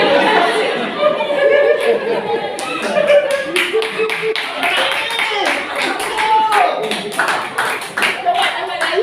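During an Easter church service, a congregation bursts into lively clapping, with scattered laughter and chatter mixed in and voices talking over it.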